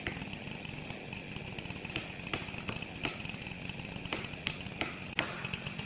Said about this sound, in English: And of course, the chainsaw stalls again.